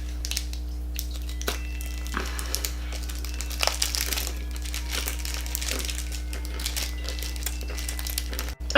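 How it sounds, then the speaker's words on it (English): Crinkly wrapper rustling and crisp crunching while someone eats a chocolate Turon candy with puffed rice, close and intermittent over a steady low hum. "it was just me eating the candy"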